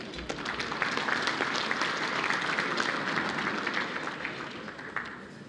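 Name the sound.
applause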